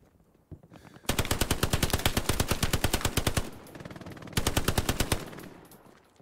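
Close, loud machine gun fire in the World War II shooter Hell Let Loose: one long rapid burst of evenly spaced shots, a short pause, then a second shorter burst, with no voices.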